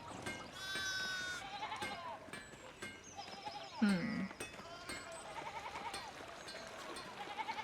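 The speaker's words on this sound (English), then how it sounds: "More sheep." Sheep bleat in the video game Pentiment, a few wavering calls over soft background game ambience with scattered clicks and light hoof-like taps.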